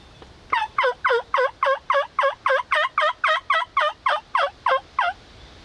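Two big wild turkey toms gobbling near a field edge, a rapid string of about fifteen loud, rattling gobble notes in steady rhythm, close and clear with no talk.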